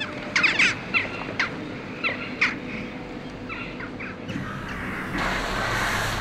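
Crows call in a handful of short harsh caws in the first few seconds at a waste dump, over a steady low rumble of machinery and background noise, before the calls fade.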